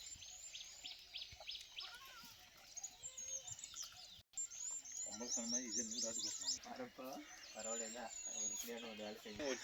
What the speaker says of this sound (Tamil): இந்த குருவி இதெல்லாம் கத்துற சவுண்டு பார்த்தா கேட்கும் நல்லா